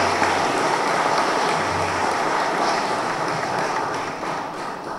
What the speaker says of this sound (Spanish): Pido por favor un aplauso para estas personas que ayudan tanto.